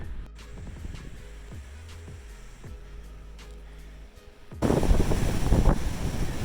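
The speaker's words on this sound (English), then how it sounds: "you are literally leaning into the wind just to take 2 steps" Strong windstorm gusts buffet a microphone on an exposed mountain trail, with a steady low roar and an abrupt loud gust near the end; no talking.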